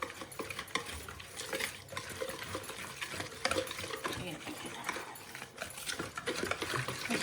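A yogurt marinade with ginger, garlic, onion and spices is mixed in a bowl, producing a steady, busy wet scraping and churning that continues close by throughout.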